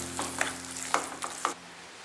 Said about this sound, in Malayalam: ഇനി ഇത് നന്നായിട്ടൊന്ന് മിക്സ് ചെയ്യാം